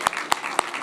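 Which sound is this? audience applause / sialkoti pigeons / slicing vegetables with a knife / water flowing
audience applause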